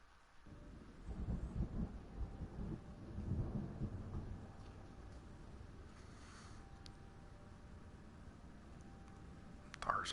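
A thunderstorm brews with a low, sustained rumble of thunder rolling through the first half, fading into a steady background wash before a brief sharper crack near the end.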